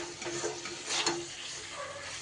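Pointed gourd (potol) being mixed with spices in a pan for doi potol gives a soft, low sizzle. A brief scrape of a spatula stands out near the middle, and no voices are present.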